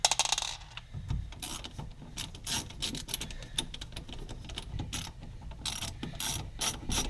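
Screws being driven back into a worn 120-volt residential outlet, a close run of small clicking, ratcheting and scraping sounds from the screwdriver and metal parts, steady and irregular, with no talk.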